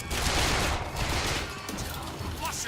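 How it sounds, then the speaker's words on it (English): Shotgun blasts in the video game BioShock Infinite, loud and close, layered into a dense wash of gunfire and noise that fills the whole moment. "Was that the shotgun?"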